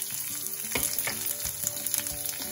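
Chopped onions for besan dosa fry in hot oil with a dense, continuous sizzle, broken by a few soft stirring scrapes, close and steady throughout.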